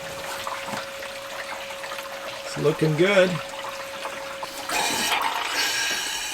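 Water running into a newly installed tank, a soft trickling pour under a steady hum, with a brief spoken comment and then a louder gush of flow near the end.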